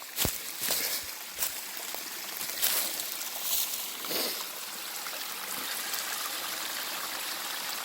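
Steady rushing water from a waterfall flows continuously, with a few sharper splashes and knocks near the start, fairly close and moderately loud.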